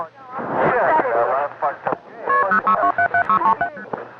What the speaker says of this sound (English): I dialed, I dialed on the phone.